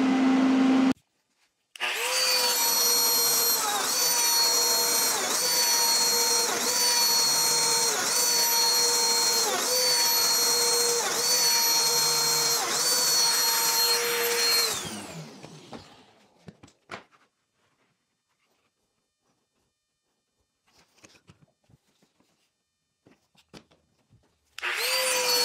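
A Lamello Zeta joiner cutting mortises with dust extraction gives a loud, steady motorized whine with a vacuum roar for about thirteen seconds, then stops abruptly, leaving near silence with a few faint clicks and a final burst at the end.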